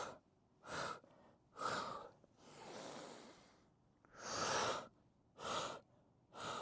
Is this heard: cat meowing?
no